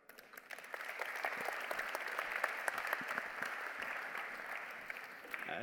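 A conference audience applauds panelists at the close of a Moon Village Association session, clapping swelling up quickly and holding steady at a moderate, somewhat distant level.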